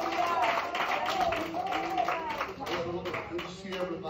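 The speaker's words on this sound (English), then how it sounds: "let's clap our hands unto the Lord" Congregation clapping hands at a Pentecostal church service: rhythmic claps from a crowd run under someone speaking loudly over them and other voices.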